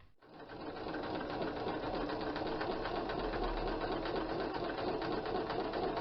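A sewing machine runs steadily and loudly while stitching elastic onto fabric for a doll's outfit. It makes a fast, continuous mechanical hum and rattle that starts abruptly and keeps going without pause, with no talking.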